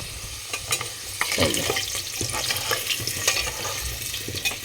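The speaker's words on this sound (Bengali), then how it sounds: "আলুটা আমি আগে লাল লাল করে ভেজে নিচ্ছি একটু" Potatoes fry in a pan for khichuri, a steady close sizzle with scraping stirring strokes running through it and no talking.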